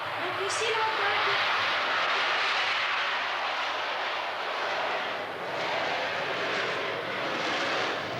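Airplanes flying close by at Sion airport, a loud, steady broadband engine roar that fills the whole stretch and swells slightly, with faint voices underneath.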